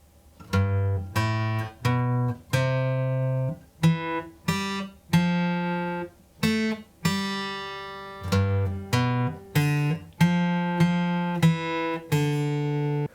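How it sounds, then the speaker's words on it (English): A clean electric guitar plays the single-note riff of "La Bamba" slowly, each note plucked distinctly and left ringing, repeating in a steady pattern with no voices. "That completes our single note riff. I'll play that through slowly."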